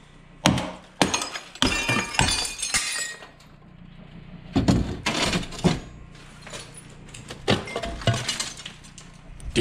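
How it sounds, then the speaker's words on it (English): Old window glass cracking and shattering as it is pried out of a rotten wooden frame in an abandoned church. Repeated loud breaking bursts and clinks come in uneven clusters, with a tinkle of falling shards between them. "that glass is gonna break when I try to take it out of there."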